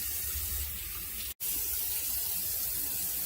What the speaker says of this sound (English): then we're gonna rinse it after the salt.